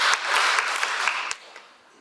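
An audience at a literature festival talk applauds, a moderate burst of clapping with some sharp individual claps that dies away after about a second and a half.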